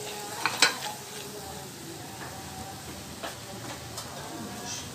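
Turmeric and garam masala powder roast in a pan with a low, steady sizzle. A couple of metallic clinks from stirring come early, and occasional faint scrapes follow.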